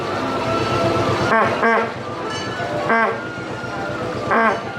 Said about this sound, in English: I allowed to honk the horn?